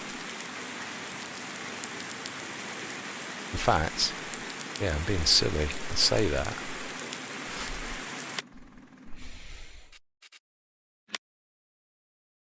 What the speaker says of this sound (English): There's absolutely nothing we can do until this rain stops.